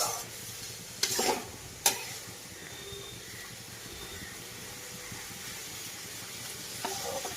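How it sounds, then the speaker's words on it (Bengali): Boiled chickpeas with slit green chillies are stirred in a pan and fry with a steady low sizzle, while a few sharp utensil scrapes and knocks punctuate it. "দিয়ে ভালো করে নাড়াচাড়া করে কষিয়ে নেব"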